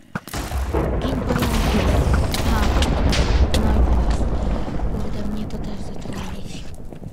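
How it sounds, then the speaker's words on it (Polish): Loud, continuous video game noise with booming, crackling bursts as a pressure-plate trap fires a lightning arrow, sustained over several seconds. "jak wejdą na te płytki naciskowe, wtedy wystrzeliwuje w nich właśnie taka piorunowa strzała"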